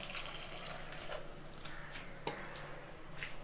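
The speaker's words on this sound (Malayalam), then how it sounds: "നമ്മൾ ഇത് വേവാൻ ആവശ്യത്തിനുള്ള വെള്ളം ഒഴിച്ച് കൊടുക്കുക." Water is poured into a pot of drumstick leaf and lentil curry, a steady close splashing trickle running the whole time with no talking.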